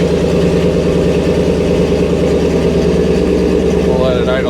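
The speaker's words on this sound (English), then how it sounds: "We'll let it idle down here for a minute." A car engine idles at a steady, even rumble, close and continuous, with no spoken words.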